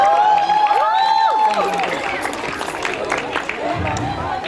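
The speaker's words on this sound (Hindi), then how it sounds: "I think they deserve a huge round of applause" An audience at a sangeet in Bharatpur applauds and cheers after a dance performance, with steady clapping under crowd chatter and voices that continues throughout.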